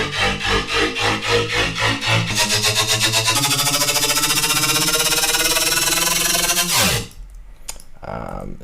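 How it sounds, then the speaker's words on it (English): Electronic riser effects from Chamberlain's Alchemy sample pack: dense layered synthetic tones climbing in pitch and intensity for about seven seconds, then cutting off abruptly into a faint quiet tail. "Just some riser sounds."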